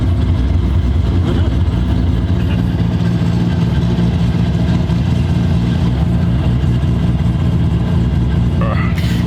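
A Toyota Supra with lumpy cams idles steadily, its uneven low rumble loud and close throughout, with a brief scrape near the end.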